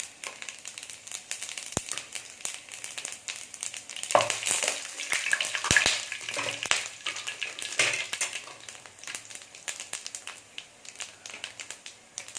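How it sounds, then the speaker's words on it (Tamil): Whole spices sizzle and crackle in hot oil in a pan while tempering for paneer biryani, a steady close-up frying hiss with scattered sharp pops and a few louder spurts through the middle. "இதை அப்படியே போட்டு தாளிச்சு"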